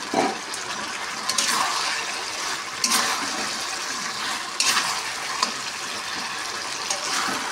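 Fried chicken pieces tossed into a pan of chili chicken sauce, with a steady sizzle and a few sharp stirring scrapes recurring every second or two, close and moderately loud, with no talking.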